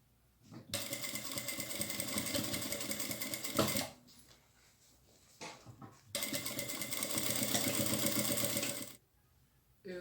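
A sewing machine stitches bias binding onto a fabric pencil case, running in two long, fast, steady bursts separated by a quiet pause, close and clear with no talking.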